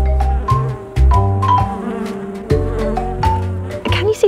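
Honeybees buzz around a beehive, their wingbeats rising and falling in loud, close passes, with several separate surges and dips as individual bees fly near and away.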